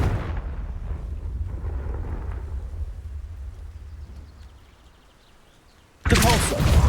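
A Confringo fire spell explodes in Hogwarts Legacy: a heavy rumbling blast that slowly fades over several seconds, then a sudden loud burst at the end.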